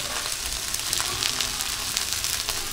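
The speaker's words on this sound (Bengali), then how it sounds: "দিয়ে দেবো কিছু কাঁচা পেঁয়াজ এর মধ্যে।" Raw onions hit a hot pan for a soybean and egg curry, giving a steady, close, dense sizzle and crackle of frying throughout, with no talk.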